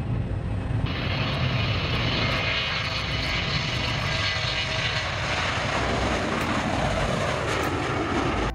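McDonnell Douglas DC-10 trijet airliner engines roar loud and steady throughout, a broad continuous jet rumble with a brighter whine joining after the first second, close and without talk.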